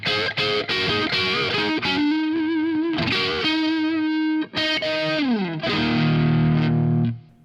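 Electric guitar through an amp that is just breaking up, played with an EMG-81 pickup: crunchy, slightly distorted chords and quick single-note runs with pitch bends, ending on a sustained, sliding chord that fades out.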